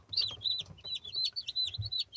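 High, rapid peeps repeat in quick bursts, a cluster of newly hatched Yeonsan Ogye chicks calling close by over a low background rumble.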